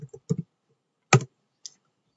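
Several keys tapped on a computer keyboard while entering a search in a terminal setup: a quick burst of crisp clicks, a louder double click near the middle, then one light tap, all fairly close with quiet gaps.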